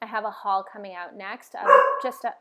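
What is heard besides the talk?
dog barking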